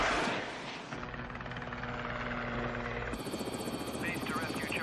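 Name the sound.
rescue helicopter flying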